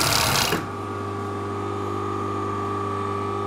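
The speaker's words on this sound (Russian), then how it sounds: "нужно подставлять оверлок прям сразу под нож" An overlock sewing machine runs steadily while stitching and trimming fabric for a hijab turban snood, making a loud, even mechanical whir with a strong constant hum after a brief louder burst at the start.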